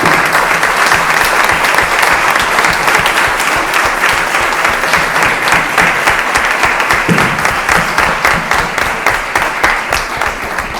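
An audience at the closing of an academic forum gives sustained, loud, dense applause that goes on without a break and slowly fades toward the end.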